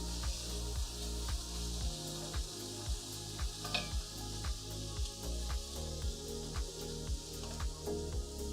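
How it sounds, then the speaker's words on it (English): Salted onions hit a hot pan and sizzle steadily, with a regular pulsing rhythm of stirring or scraping running through the frying hiss, close and moderately loud. "You should always hit your onions with a bit of salt and then they hit the pan."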